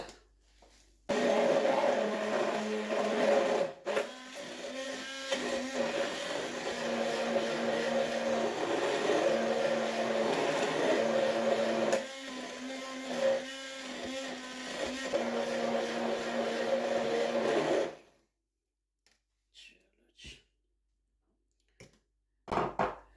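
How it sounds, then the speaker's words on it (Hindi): Blender running on mango with sugar, a loud steady whirring drone lasting about seventeen seconds with slight pitch dips, then stopping, followed by a few faint knocks. "अब इसको करते हैं ब्लेंड।"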